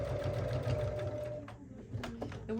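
Sewing machine stitching a fabric tote bag, a close, steady rapid whir of needle strokes that slows and stops, followed by a few soft clicks and handling sounds.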